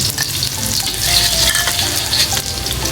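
Garlic sizzles steadily in hot oil in a pan, with a dense, loud, continuous frying hiss and occasional faint stirring clicks throughout.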